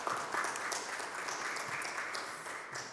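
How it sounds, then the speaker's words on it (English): Steady applause from a conference audience greeting a five-person panel, a dense wash of clapping held at moderate level throughout with no talk over it. "Bring our applause to them."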